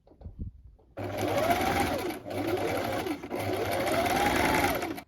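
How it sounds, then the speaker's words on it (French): A sewing machine runs steadily, stitching fabric for a sewn top, close and loud in long continuous bursts with two brief pauses, after a few soft handling noises at the start. "vous allez coudre au-delà du point"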